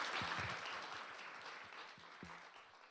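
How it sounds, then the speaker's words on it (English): An audience at an Italian Heritage Month celebration applauds after a tenor and soprano performance with keyboard accompaniment, a soft, diffuse wash of clapping that gradually fades, with a few low thumps underneath. "Big round of applause."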